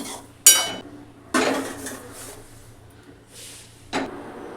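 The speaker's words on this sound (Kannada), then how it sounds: "ಬಂದಿಟ್ಟೆ ಉಪ್ಪಿಟ್ಟು ಮಾಡ್ಕೊಳಕ್ಕೆ ರವೆ ಹುರ್ಕೊಳಕತ್ತೀನಿ ರೀ" Semolina (rava) roasting in a pan for upma, with a few distinct scraping clatters of a spoon against the pan spaced out over quiet low hum, close and moderately loud.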